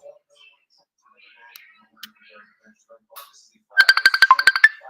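A phone ringtone sounds for an incoming call, a loud burst of rapid repeating electronic tones that starts near the end, after quiet stretches with scattered faint clicks and light background noise.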